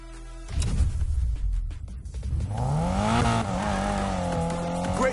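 A car in Need for Speed Payback revs hard on a drift run, then its tires squeal in a long, loud, wavering screech over the rising engine note, close and with no talk over it.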